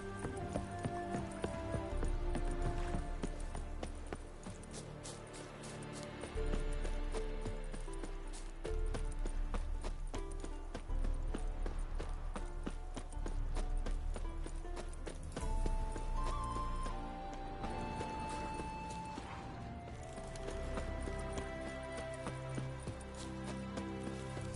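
Roach the horse galloping in The Witcher 3, rhythmic hoofbeats pounding under a dense, loud bed of game music and ambience that continues throughout.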